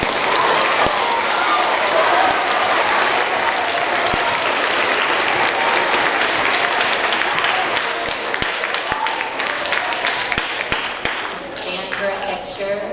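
Sustained, loud applause from an audience at a sixth grade awards ceremony, dense clapping filling the room for about thirteen seconds and tapering slightly near the end, with a few voices underneath.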